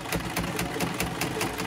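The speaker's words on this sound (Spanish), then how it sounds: "estoy cosiendo sin prensa tela especial" A sewing machine stitches combined fabric materials for a cover without a special presser foot, giving a fast, even mechanical whir with regular needle clicks about every fifth of a second, close and steady, no voices.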